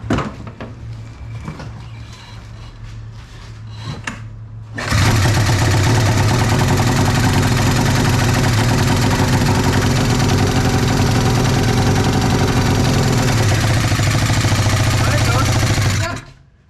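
An old Arctic Cat snowmobile engine bought secondhand, knocking and idling roughly at first, then roaring loudly into a steady, close high-revving run before cutting off abruptly.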